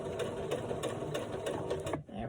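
A sewing machine back-stitches a seam on a stuffed frog toy, with a fast, even rattle of stitches close by that stops abruptly near the end.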